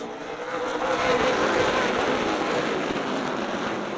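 A field of ARCA Midwest Tour stock cars roars together at Rockford Speedway, a dense, sustained engine rumble swelling as they accelerate on the green-flag restart.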